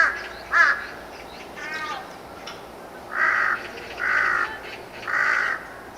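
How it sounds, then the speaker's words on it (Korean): A crow caws repeatedly outdoors, giving about six harsh, raspy calls in uneven bursts. The calls are fairly close and loud over a faint background hiss. "네, 정확히 까마귀 우는 소리예요."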